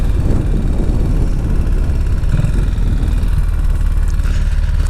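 A 1959 BSA motorcycle engine drones loud and continuous while being ridden on a late-November winter road, with heavy wind roar over the steady engine note.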